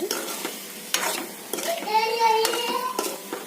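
Eggs coated with salt, turmeric and chili powder being stirred in a pan with tamarind, tomato and onion nearby, a spoon scraping and tapping the metal in short strokes over a soft sizzle, with a faint voice in the background.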